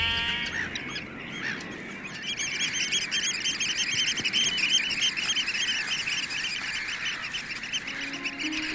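A flock of oystercatchers on the North Sea coast calls in a steady stream of shrill, piping cries, overlapping and continuous at moderate distance with no voices.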